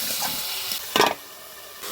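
Onion stalks and turnip fry in hot oil, giving a soft continuous sizzle and hiss with a brief louder spitting burst in the middle.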